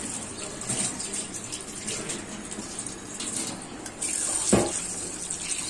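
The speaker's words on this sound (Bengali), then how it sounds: "ডালগুলো আগে ধুয়ে নিচ্ছি।" Lentils being rinsed under a running tap, a steady close stream of water splashing into a sink with a brief louder gush near the end and no talking.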